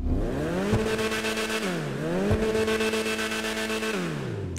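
A Karin 190Z sports car in GTA 5 Online revs its tuned exhaust hard, twice. Each rev climbs, holds, then falls as the throttle lifts. The engine is loud and close, with no voices over it.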